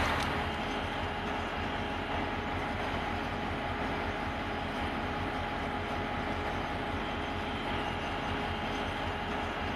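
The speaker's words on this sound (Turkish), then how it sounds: "Yeni yolcuların binmesiyle tren tekrar hareket ediyor." Eastern Express passenger train pulling away from a station, a steady broad rumble of rolling cars with a faint continuous hum, moderately loud and unbroken, no voices.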